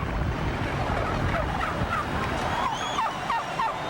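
Turkeys gobble in a rapid series of short rattling calls, moderately distant and partly masked by steady wind noise.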